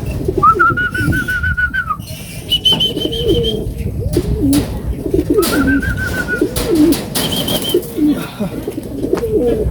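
Racing pigeons arriving at a loft after a derby race lap, with close, repeated cooing and whistly calls over a busy background, short bursts coming and going.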